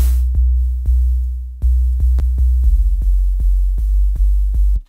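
A synthesizer with added noise plays a deep, booming bass pulse in an uneven rhythm of about a dozen hits, loud and close, with a faint noisy hiss layered on top.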